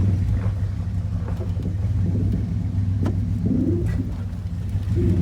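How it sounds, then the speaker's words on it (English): A 1996 Dodge Ram 1500 engine holds a steady low rumble as it reverses, with no voices, while birds coo faintly in the background. "And here goes the motor loading up like it does, because again, computer controls, but you can see it is moving in reverse."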